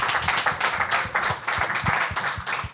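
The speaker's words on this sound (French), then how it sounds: "Faites un tournant d'applaudissements, s'il vous plaît, pour nos invités." A studio audience claps for guests Eddy King and Preach at a talk-show taping, dense steady applause throughout at close range, with faint voices underneath.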